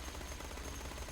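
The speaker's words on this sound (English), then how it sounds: "You can see it's actually just a bunch of short, limited bullets." A sci-fi gun in Borderlands 2 fires a steady, continuous stream of short rapid bullets, dense and even throughout, with no talking.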